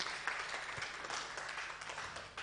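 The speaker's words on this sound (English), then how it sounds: "Another round of applause for Sister." Audience applause at a regional social entrepreneurship research symposium, a faint, steady patter of many hands clapping in a hall for a couple of seconds, with no talk over it.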